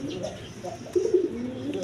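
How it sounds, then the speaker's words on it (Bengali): Short, soft cooing from a pair of mixed-colour Rajgolla pigeons, low and murmuring, with no talk over it. "এইখানে এক পেয়ার মিলি কালারের রাজগোল্লা কবুতর আছে দেখেন"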